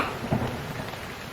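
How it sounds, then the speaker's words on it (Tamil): Heavy rain pours steadily as a broad, even wash of noise, close and continuous, with a brief louder burst near the start and no voices. "மழை ரொம்ப பெய்யுதுமா"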